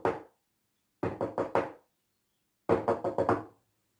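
Four sharp wooden knocks from Doctor Who: The End of Time ring out in two clean groups, a single knock followed by three quick raps, then the four repeated, close and loud against silence.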